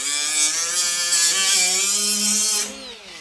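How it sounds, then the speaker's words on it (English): An angle grinder working on a Craftsman DLT 3000 mower tensioner bracket to take down a hump, a loud sustained whine with shifting pitch that cuts off near the end. "all I'm gonna do is just grind, get rid of that hump"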